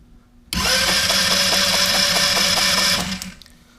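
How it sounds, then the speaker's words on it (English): A go-kart 150 engine with its spark plug removed is cranked by the starter for about two and a half seconds, giving a steady, rapid mechanical whirring that starts abruptly and then dies away. "I'll just pretend starting the engine"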